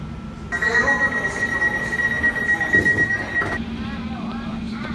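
A Class 345 electric train on London's Elizabeth Line runs with a steady rumble and a high whine from the motors, with people talking over it.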